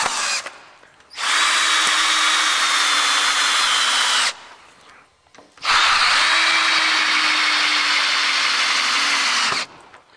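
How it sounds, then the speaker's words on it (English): A power drill drives screws into wood for reinforcement on an RV trailer roof, with two long whirring runs of about three and four seconds separated by short pauses, loud and close. "what I'm trying to do now is just put a few screws in just to give it a little extra reinforcement"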